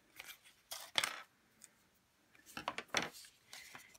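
Scissors cut away excess vinyl in a few quiet, separate snips and crinkles, with short pauses between the cuts.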